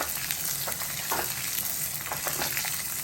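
Chana dal sautéing in a pan for South Indian red chutney, a steady close sizzle and fry crackle with soft stirring scrapes throughout, no talking.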